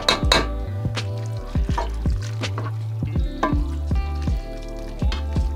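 A spoon stirs chicken stroganoff with sour cream and mustard in a pot, giving repeated metallic clinks and scrapes against the pot over a steady low hum, with no talk.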